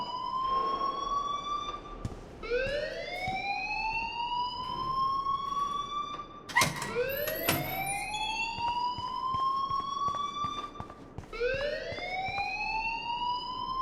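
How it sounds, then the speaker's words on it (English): A rising and falling electronic alarm wails repeatedly in the video game Life Is Strange, its sweeping tone climbing in several long cycles, loud and steady, with a brief sharp clatter partway through. "please turn off that alarm since that's your job"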